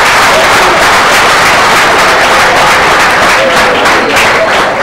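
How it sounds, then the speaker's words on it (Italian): A studio audience at an Italian television show gives loud, sustained applause of encouragement, a thick unbroken roar of clapping across the whole stretch. "fatemi un applauso di incoraggiamento."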